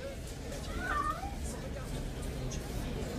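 A short, faint meow sounds over a constant low rumble of background noise.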